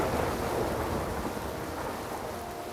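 Heavy monsoon-style deluge with dense, continuous rain roaring over low rumbling thunder, a thick steady wash of sound with no break and no voices.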